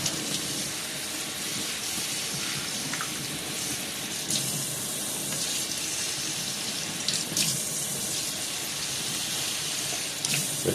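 Running water from a tap showers potted plants in an indoor plant-care routine, a steady broadband splash lasting throughout with small fluctuations, close and fairly loud, with no speech.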